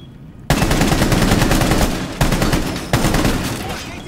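Rapid automatic gunfire from a Rainbow Six Siege bomb match on the Oregon map, a loud sustained burst with two sharp restarts partway through, trailing off at the end.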